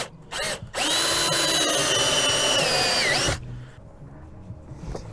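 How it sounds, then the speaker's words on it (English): A power drill with a step bit whines loudly for a few seconds as it bites into plastic, pitch dipping slightly under load before cutting off abruptly. "we don't want to get too carried away pushing on the step drill"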